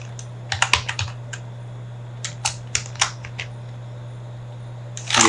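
A short burst of crisp keystrokes typing a search query on a computer keyboard, a few clusters of clicks separated by pauses over a low steady hum, no voice.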